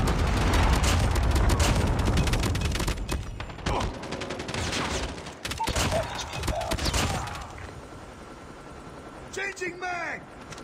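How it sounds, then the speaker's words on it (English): A Predator missile strike and gunfire in Call of Duty Mobile, with dense, loud bursts of shots and booming impacts that fade into scattered firing, with game voice lines in between. "Predator missile inbound."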